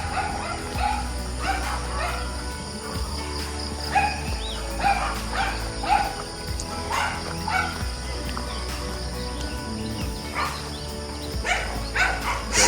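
Several neighborhood dogs bark and yip in repeated short bursts, some close and some farther off, over steady outdoor background hum during a morning walk along a residential road.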